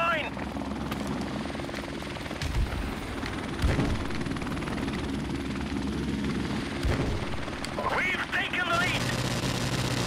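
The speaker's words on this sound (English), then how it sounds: "Friendly helicopter on the way!" A friendly helicopter in Call of Duty: Modern Warfare Remastered multiplayer, a steady rotor drone running throughout alongside game effects and bursts of gunfire, with people talking over it.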